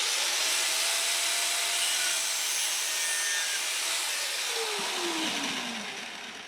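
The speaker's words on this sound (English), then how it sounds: "This oil feed line I'm going to cut today, and I'm going to cut it short" A turbocharger oil feed line is cut to length with a tool that gives a continuous loud, harsh grinding rasp, steady throughout and fading slightly at the end; no speech.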